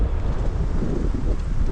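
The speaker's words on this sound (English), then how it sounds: "It's pretty windy, see by the trees" Steady wind on an open roadside in Western Australia during a solo bike ride, a constant low roar and buffeting against the microphone with no other sound over it.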